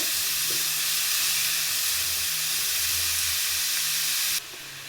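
Ridge gourd curry fries in a pan with a steady, loud hiss and sizzle, close up, with faint stirring underneath before the sound drops off near the end.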